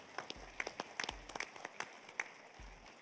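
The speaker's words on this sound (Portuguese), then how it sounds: "Uma salva de palmas para o Juan." Scattered, sparse applause from a small audience at a trade fair and events industry panel in São Paulo, a few quiet individual claps spread unevenly over a few seconds against a soft room murmur.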